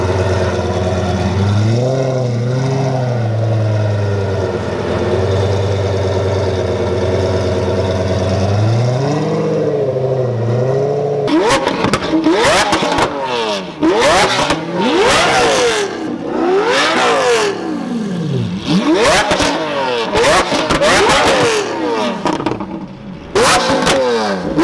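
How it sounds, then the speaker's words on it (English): A Lamborghini Aventador and a straight-piped Aventador Superleggera trade loud, close revs, first a steady idle with rising blips, then a rapid burst of sharp, overlapping throttle stabs and crackles. "you put them next to each other and you get a little rev battle going"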